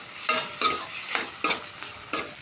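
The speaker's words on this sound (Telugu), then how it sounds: "ఇప్పుడు కాన్ కూడా వేసేసి మొత్తం మిక్స్ చేసేసుకోవాలి" Corn fried rice with capsicum and carrot is stirred in a hot pan, with five distinct spatula scrapes at a steady rhythm over a soft sizzle, loud and close, with no talking.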